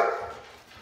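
A single short dog bark, close and fairly loud, fading quickly, with several dogs in the house set off barking together.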